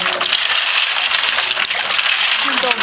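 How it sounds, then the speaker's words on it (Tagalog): Water being changed in a container of snails pours and gushes steadily and close up for the whole stretch, a continuous splashing wash with a few small knocks near the end. "Siyempre, kapalitan na natin ang tubig."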